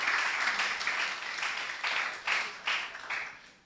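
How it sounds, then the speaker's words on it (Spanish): A church congregation gives a loud round of applause after a prayer to God, clapping steady at first and then swelling in a few bursts before tapering off. "Denle un fuerte aplauso a nuestro Padre Celestial."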